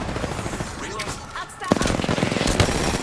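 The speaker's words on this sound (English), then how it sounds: "Opening fire on the enemy." Video game gunfire aimed at an enemy: sporadic shots at first, then sustained rapid automatic bursts that grow louder and denser in the second half, with voices talking over the shooting.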